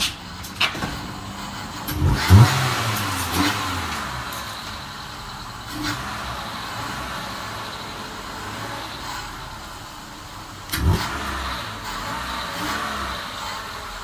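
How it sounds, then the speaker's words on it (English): A Hyundai car with freshly fitted spark plugs fires up and runs, with engine noise rising in a couple of revving bursts over a steady idle, recorded close by. "Put it all back together and fire the vehicle up and see how it runs now with"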